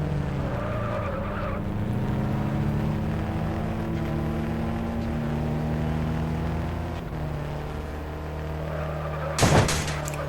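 A borrowed car drives in the game Mad Out 2, its engine droning steadily and fairly loud, with a sharp burst of noise near the end.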